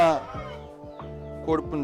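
A Rampur rooster crossbred with Peruvian hens gives several close, nasal clucks and calls in quick succession, loud and clear in a quiet setting.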